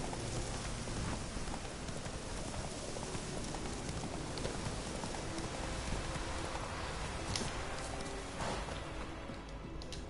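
Horse hooves clip-clop at a walk over steady rainfall in The Witcher 3 video game, the hoofbeats faint and partly masked by a dense, continuous patter of rain.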